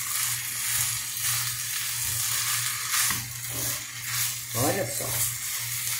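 Diced beef and carrots sizzle in a pan for picadinho de carne, a steady soft frying hiss with a few stirring scrapes while a voice speaks briefly over it.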